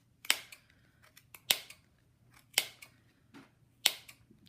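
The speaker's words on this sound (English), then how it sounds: "I'm using my little scissors and just kind of clipping that" Small scissors snip through yarn on a pom-pom maker, four crisp distinct clips spaced about a second apart with faint rustling between, close and quiet.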